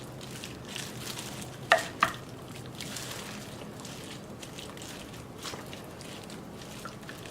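Korean beef mixture is stirred in a hot pan, with a steady low sizzle throughout, a couple of sharp utensil clinks near the start, and faint scraping and shuffling close by.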